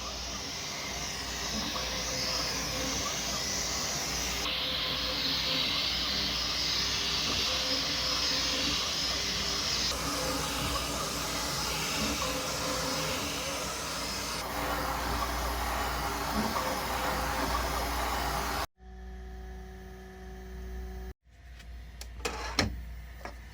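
Bambu 3D printer running a print of a laser exhaust adaptor, a continuous whirring fan-and-motor drone with shifting tones, close and steady, briefly cutting out and resuming near the end with small clicks.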